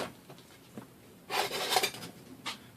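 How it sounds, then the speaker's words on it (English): Hand file rasping along the edge of a lawn mower blade to clean off the burr, quiet scraping at first, then one louder, longer stroke followed by a brief final scrape. "I like to take the file and just go down it straight, just to clean that burr off"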